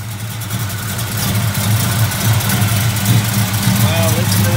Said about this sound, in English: listen to that big block bump